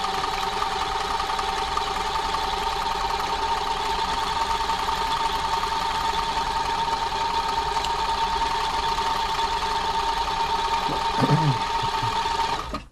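An aging Toyota 2600 sewing machine with a tiring motor runs steadily while sewing a stretch stitch, giving a close, continuous whirring hum with a mechanical buzz, with a few clicks and bumps near the end before it stops.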